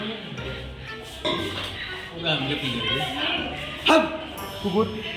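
A voice imitates a dog, barking and yipping in short bursts, mixed in with ongoing chatter from others nearby at a college science exhibition.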